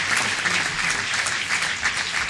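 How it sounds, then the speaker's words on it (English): A city council chamber audience applauds a state champion team, a dense, continuous wash of many hands clapping at steady volume for a couple of seconds, with no talking. "Please give them a round of applause"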